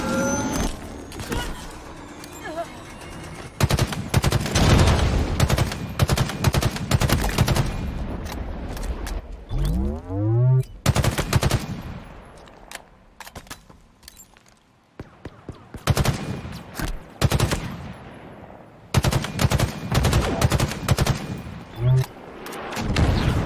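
Intense gunfire in Halo Infinite's campaign on Legendary difficulty: dense bursts of automatic fire and heavy blasts overlapping, with a brief whooshing pass midway and short lulls between volleys.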